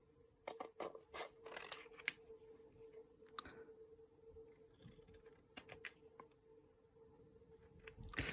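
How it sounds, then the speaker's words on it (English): Scissors snipping through paper at close range in short, irregular bursts of crisp cuts with quiet pauses between, and no talking. "I'm going to show you how to use scissors. So I'm just going to cut around the template."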